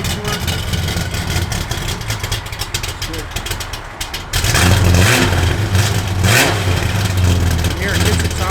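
A 1955 Chevrolet Bel Air with a small-block V8 idles with a rumbling note, then revs up sharply and holds a louder, throatier roar through the second half, close by.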